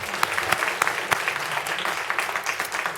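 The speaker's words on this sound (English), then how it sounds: "let's give her another round of applause," Applause from the audience at a Fayetteville city council meeting, a steady clatter of many hands with sharp individual claps standing out, moderately loud and close, lasting the whole stretch without talk.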